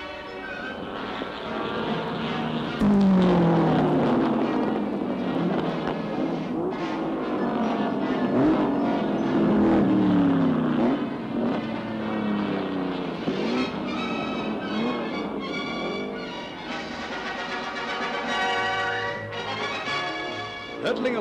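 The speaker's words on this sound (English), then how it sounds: "Melbourne also stages the car race event of the year, the Australian Grand Prix" Racing cars at the Australian Grand Prix on the Melbourne circuit roar past in loud rising and falling engine sweeps, with two strong passes standing out over a dense, steady wash of sound.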